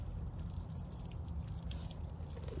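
Water splashes and trickles steadily onto soil around planted Logan berries outdoors, continuous and close, over a low background rumble.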